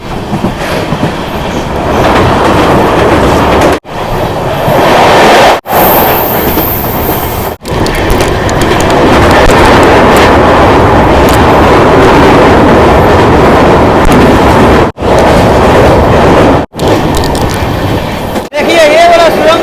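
Aizawl Intercity passenger train rolling through a long tunnel on the Sairang–Guwahati line in Mizoram, a loud steady roar with rhythmic clickety-clack of wheels, briefly interrupted by sharp drops, with someone talking over it.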